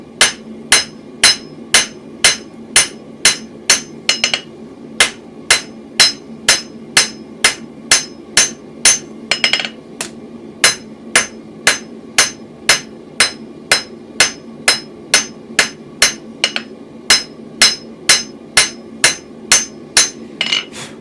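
A hand hammer strikes hot steel being forged into a toasting fork, ringing out in a fast, steady series of sharp, loud metallic blows with a few brief pauses and no voices.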